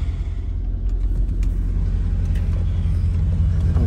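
The hydraulic pump of a Mercedes SL55 Vario roof, low on fluid, runs as the roof closes. It gives a continuous, fairly loud low droning hum with faint light clicks on top.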